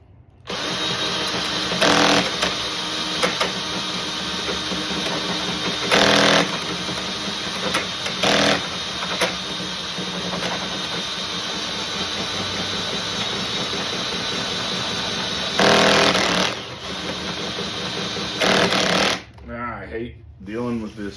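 Hand drill boring holes in a wooden serving tray, a steady whining motor hum running nearly continuously with a few louder surges and short pauses, close and loud.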